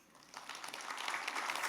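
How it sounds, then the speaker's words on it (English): Clapping swells from quiet to fuller as an audience welcomes performers on stage at a Bharatanatyam arangetram dance recital, building steadily over a couple of seconds. "Please welcome them on stage with a round of applause."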